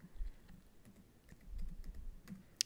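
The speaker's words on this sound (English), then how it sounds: "I'll type in a website that's completely" Someone types a website name on a computer keyboard, a short burst of quiet, uneven key clicks that ends in one sharper tap, with no one talking.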